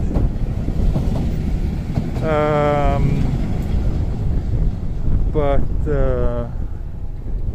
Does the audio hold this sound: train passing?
yes